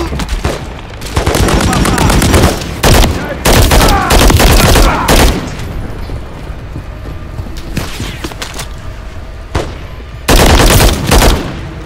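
Heavy gunfire from Call of Duty MW3 at Gora Dam, with loud bursts of automatic fire and repeated shots in clusters, pausing mid-clip and then returning in a sharp volley near the end, with voices underneath.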